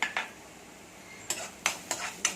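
Chopped onion and green chillies are stirred in oil in a pan, giving a few sharp scraping and clinking strokes of a spoon against the metal, spaced irregularly over a faint background.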